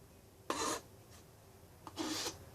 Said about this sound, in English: Some filing, some testing, some more filing.